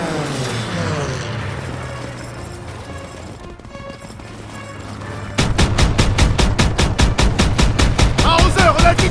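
Dense automatic gunfire in the WWII shooter game Call of Duty, starting as a muffled rumbling battle and then breaking into loud, rapid bursts of shots that rattle on continuously for the last few seconds.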